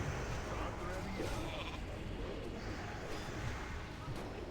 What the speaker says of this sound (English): I am a sheep.